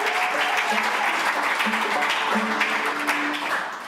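An audience at a live bluegrass-style radio show claps steadily for a musician, a dense continuous applause holding for several seconds alongside faint tonal music or hum, then thinning slightly at the end.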